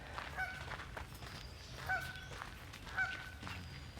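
Ducks and geese honk during an outdoor morning walk, three or four short nasal calls spaced a second or so apart, faint and distant over a soft background hiss.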